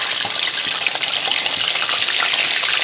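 Half a teaspoon of salt dropped into hot oil in a karahi pan gives a steady, loud, broadband sizzle that holds evenly throughout, with no speech over it.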